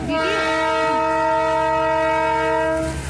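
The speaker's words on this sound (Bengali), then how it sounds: "এখন টয় ট্রেনটা আসছে খুব সুন্দর লাগছে দেখো" A Darjeeling toy train sounds a long, loud, steady horn close by as it approaches on a rainy-season day, the tone holding for about three seconds before fading.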